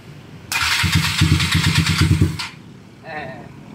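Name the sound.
Yamaha Mio Sporty 261cc motorcycle engine running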